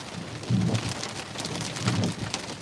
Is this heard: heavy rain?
yes